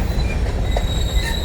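Freight grain train of BNSF or Union Pacific passing close on the railway, a loud continuous rumble with wheel squeal and clacking over the rails, no voices heard.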